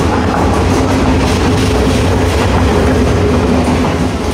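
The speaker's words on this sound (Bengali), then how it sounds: "কিশোরগঞ্জ এক্সপ্রেস ট্রেনের লোকো রিভার্স করা হচ্ছে, তো লোকোটি পিছন থেকে সামনের দিকে গেল" A Kishoreganj Express locomotive reverses, giving a loud, steady rail rumble with a low engine drone and faint rhythmic wheel clatter that continues throughout, with no voices.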